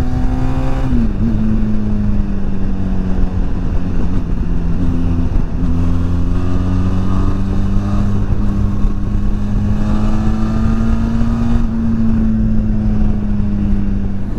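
A Benelli TRK 502 X motorcycle under way, its engine humming steadily and loudly at close range, the pitch dipping and climbing gently as the rider shifts through gears, with wind rushing past and no voices.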